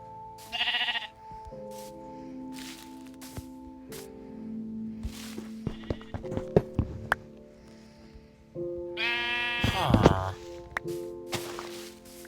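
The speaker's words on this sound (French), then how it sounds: "Eh mais qu'est-ce qu'il fait là, le mouton?" Sheep in the Minecraft video game bleating in a few short bursts, one near the start and a louder one near the end, amid footstep clicks, block sounds and soft game tones, with no talk.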